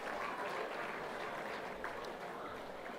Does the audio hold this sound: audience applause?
yes